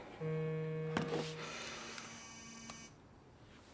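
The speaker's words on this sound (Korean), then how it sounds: "또다시 걸려온 장난 전화" A steady electronic tone rings out, broken by a sharp click, then a thinner tone lingers faintly in a quiet room.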